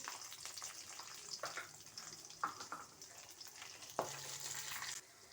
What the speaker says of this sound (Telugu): పల్లీలు, వేగనిద్దాం. పచ్చిమిరపకాయలు,